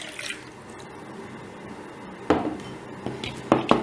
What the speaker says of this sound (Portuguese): Coloca um pouquinho de água.